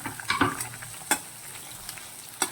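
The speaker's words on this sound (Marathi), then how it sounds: "आता आपल्याला परतून घ्यायचं आहे हे साहित्य" Tomato and other ingredients sautéing in a pan over a low flame, a soft continuous sizzle broken by a few sharp spatula scrapes and clinks, with no talking.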